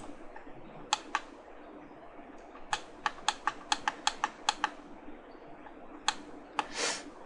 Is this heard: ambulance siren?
no